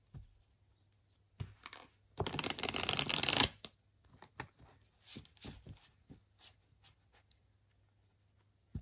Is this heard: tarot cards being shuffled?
yes